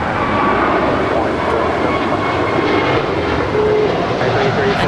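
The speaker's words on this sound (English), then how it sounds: "this is JetBlue 2300 heading to Kennedy. It's a 5-year-old A321." A five-year-old JetBlue Airbus A321 airliner taking off at LAX, its engines producing a loud, steady broadband roar that fills the whole stretch without letup.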